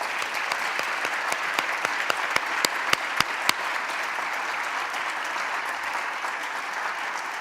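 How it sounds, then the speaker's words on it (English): An awards ceremony audience gives a round of applause, a sustained patter of many hands with a few sharp, close claps standing out before it settles into a steady wash. "I'd like to congratulate each of you one last time with a big round of applause."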